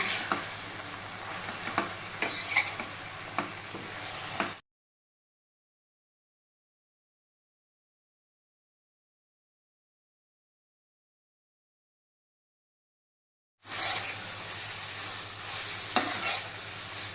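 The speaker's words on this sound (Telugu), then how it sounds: "మనం వేసిన ఈ నూనెలో బాగా మగ్గిపోవాలండి గోంగూర" Gongura leaves cook in oil in a pan, giving a close, steady sizzle with a few stirring knocks, broken by a long stretch of dead silence before the frying resumes.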